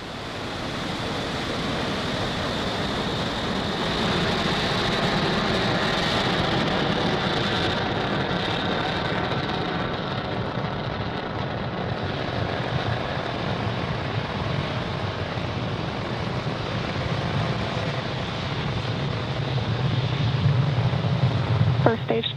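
A SpaceX Falcon 9 rocket lifts off on the Transporter-2 mission with a broad, continuous roaring rumble that stays heavy and sustained, swelling slightly toward the end.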